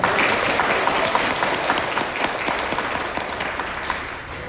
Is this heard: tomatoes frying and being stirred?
no